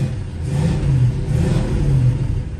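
A 1966 Oldsmobile Toronado, a front-wheel-drive car with about 79,800 miles, starts and revs up. The engine gives a loud, steady mid-pitched drone that rises and falls with each rev, close and alone.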